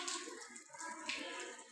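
Water runs steadily from a tap while hands are washed during Muslim ablution (wudu), a continuous soft splashing flow that stays close and fairly quiet, with no talk in the clip.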